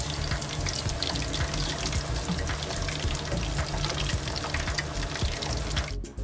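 Pork belly deep frying in hot oil, a constant dense sizzle and spatter close by that runs unbroken for several seconds before a brief drop at the end.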